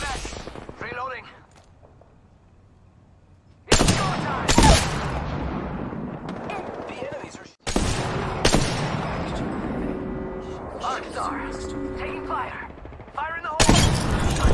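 Gunfire in the shooter Apex Legends: several loud bursts of rapid shots separated by quieter stretches, with rumbling game noise, echoing tails and occasional voices in between.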